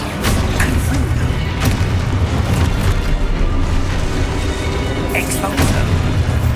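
A Confringo spell explodes in the video game Hogwarts Legacy, heavy booming blasts over a dense, loud game soundscape with voices calling out spells.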